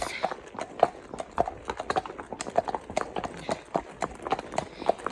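Horse hooves clip-clop in a steady, even rhythm during a relaxed hack out on a ridden horse, moderately close with faint outdoor ambience behind.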